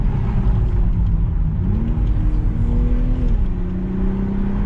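The new Toyota Supra's engine hums in a low, steady drone while driving, its pitch stepping up and settling as the car pulls along, with road rumble constantly underneath.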